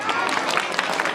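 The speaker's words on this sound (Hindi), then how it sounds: "भाई प्रदीप यादव जी के लिए एक बार जोरदार तालियां" Audience at a school event breaking into loud applause, dense clapping from many hands over about a second, with a speaking voice mixed in.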